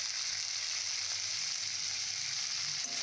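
Rohu fish curry with peas sautés in a pan, making a steady, even sizzle that hisses close up for a few seconds, with a faint low hum beneath and no voices.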